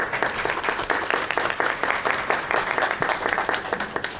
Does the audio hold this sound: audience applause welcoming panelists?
yes